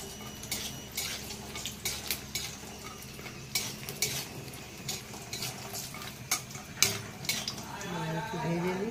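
Bori lentil dumplings frying in a pan in a village kitchen, faint oil sizzle with clinks and scrapes of a spatula against the pan, close, with a low background hum.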